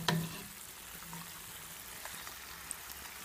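Chebakia pastries frying in hot oil in a pan, a soft, steady crackling sizzle with faint scattered pops, continuous and fairly quiet, with no voices.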